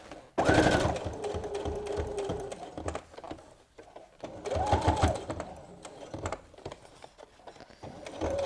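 A sewing machine stitches an apron seam with a back stitch, running in loud close bursts with short pauses between runs, and no voices are heard.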